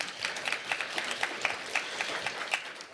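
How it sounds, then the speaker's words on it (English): A seated audience gives a steady round of applause, dense overlapping claps sustained for the whole stretch with no voices over it. "I'll take that applause"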